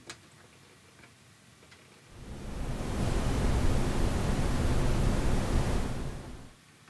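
A flat noise from a Buchla 266 Source of Uncertainty synth module cuts in after a quiet couple of seconds, a broad steady hiss that holds loud and even for about four seconds before fading out.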